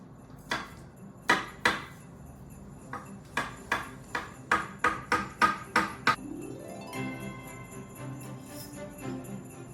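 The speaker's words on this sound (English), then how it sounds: "grab a knife, and cut yourself a little chunk of crumb cake" A knife cutting through Christmas crumb cake on a plate, a run of sharp, close taps and clicks in an uneven rhythm, then a quieter, softer scrape.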